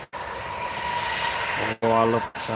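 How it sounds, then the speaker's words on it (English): Airliner powered by CFM56 jet engines at Newcastle International Airport, a steady loud roar with a whining tone running nearly two seconds, then broken by short bursts of a harmonic, voice-like sound near the end. "I love that sound. Do love that sound. CFM 56."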